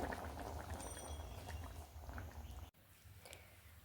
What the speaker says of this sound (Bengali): বেশ ফুটতে শুরু করেছে এইভাবে কয়েক সেকেন্ড ফুটিয়ে আমি নামিয়ে নেব